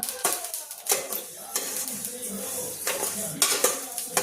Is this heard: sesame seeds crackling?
yes